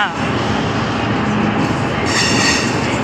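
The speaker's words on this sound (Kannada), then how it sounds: "ಒಂದು ಟ್ರೈನ್ ನಿಂತಿದೆಯಲ್ಲ" Loud, continuous rumbling and hissing of a train standing at a station in Bangalore, with a high metallic squeal rising near the end.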